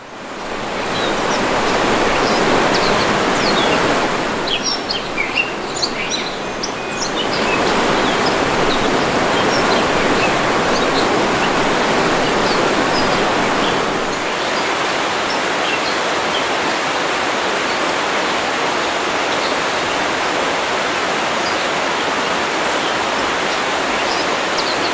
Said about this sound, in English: A bit further down is the waterfall of Fonissa.